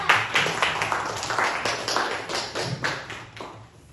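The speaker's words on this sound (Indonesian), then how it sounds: "tepuk tangan dulu untuk kelompok 2" Students in a classroom clap for a presenting group, a moderate, fairly sparse patter of hand claps with an uneven rhythm and a faint hum underneath.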